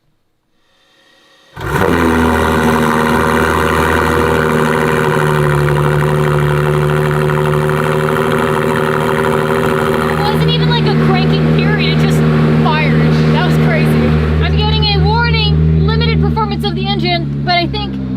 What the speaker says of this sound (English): World's first exhaust on a Ferrari 296 GTB.